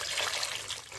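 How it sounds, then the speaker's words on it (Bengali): Water streams steadily into a cooking pot holding six eggs set to boil on a gas stove, a close, continuous trickling pour. "জলটা দিয়ে দিচ্ছি আমি"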